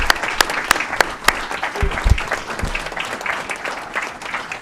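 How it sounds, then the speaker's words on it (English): City council meeting audience applauding police officers, a sustained round of clapping with sharp individual claps standing out, fairly loud and steady, with a few low thumps underneath. "Let's give them a round of applause for all that they do to keep us safe."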